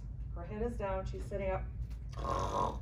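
A person vocally imitates a patient's obstructed, snoring breathing with several rough, grunting inhalations, then a hoarse noisy exhale. Speech is heard around the imitation.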